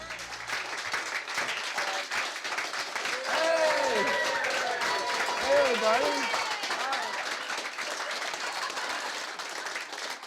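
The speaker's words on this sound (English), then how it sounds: "People clapping when you walk through the door." A group of people applauding together as someone walks in through a door at the Alert station on Canada Day. The clapping is sustained and dense, swelling midway while voices and cheers rise over it.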